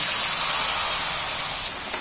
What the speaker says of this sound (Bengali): এখন জল দিচ্ছি, অল্প একটু জল দিচ্ছি।